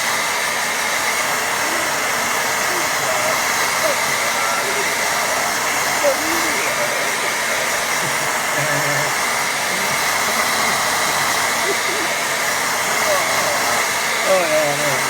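A hair dryer blows steadily on a wet watercolour paint layer, a constant loud airy whoosh throughout, with faint voices murmuring underneath.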